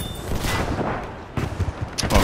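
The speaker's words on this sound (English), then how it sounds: "Barrage right on top of that." An artillery barrage hits in Battlefield V, with heavy booms and rapid blasts landing close together in irregular clusters, loud and near.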